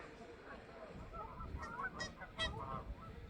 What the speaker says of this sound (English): Geese and the swans.